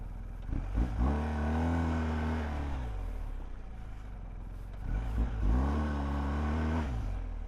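Off-road motorcycle riding, the engine revving in two surges with a steady rumble between them and no talk.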